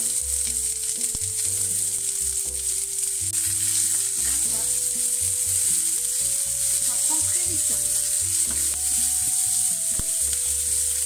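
Onions hit hot oil in a frying pan with moisture present, producing a loud, steady, unbroken sizzle that lasts throughout, with music playing underneath.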